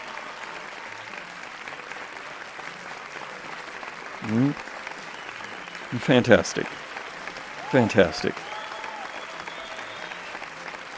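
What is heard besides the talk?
audience applause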